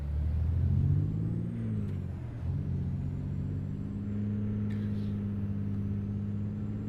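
Scania truck engine in a truck driving video game, a deep steady low rumble with a brief rise and dip in pitch early on, then settling into an even drone.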